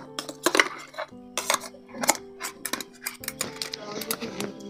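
Mango puree is moved from a mixer jar into a bowl, with a run of close clinks, taps and scrapes of the jar and utensil against the bowl over a steady tonal hum.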